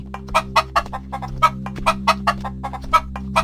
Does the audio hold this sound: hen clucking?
yes